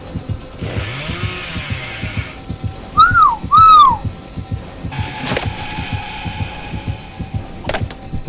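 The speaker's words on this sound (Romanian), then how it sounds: "Cred că m-a auzit când am fluierat" A person whistles two short rising-and-falling notes during Dead by Daylight gameplay, clear and close above a steady hum of game ambience and soft thumping.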